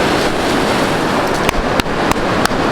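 Steady roar of ocean surf at Uvita, Costa Rica, with waves washing continuously and crashing into a tree, punctuated by a few sharp knocks near the end.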